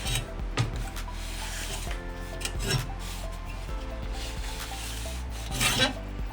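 A shop towel rubs across the blades of a manual reel mower, producing repeated scuffing and rasping strokes with faint metallic clicks as the reel turns, close and moderately quiet.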